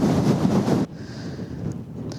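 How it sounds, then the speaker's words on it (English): Strong wind on Mt Arthur in Kahurangi National Park roars hard against the microphone, then suddenly drops to a softer, steady gusting rush. "I'm going to step out into the wind for a minute so you can see how windy it is."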